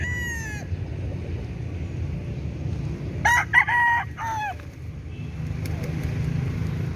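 A rooster crows loudly and close by, after the tail end of another crow at the start, over a low steady background rumble.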